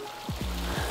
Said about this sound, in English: It's a freaking waterfall, right?